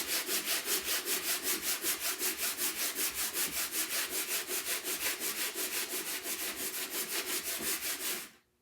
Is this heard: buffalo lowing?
no